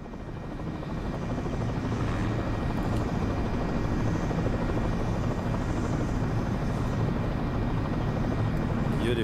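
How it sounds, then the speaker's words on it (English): A helicopter flies over the finish area of the Engadin cross-country ski marathon in Graubünden, its steady rotor and engine drone loud and continuous throughout. "Beautiful helicopter shots here."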